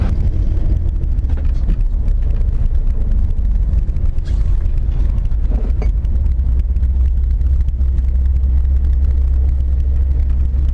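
A 1964 Ford Galaxie 500XL fastback with a 352 V8, driven with the windows down: a steady, loud low engine rumble mixed with wind noise, continuous throughout.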